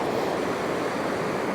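Waterfall on the Isle of Skye at night, a steady broadband rushing roar with no breaks, loud and close.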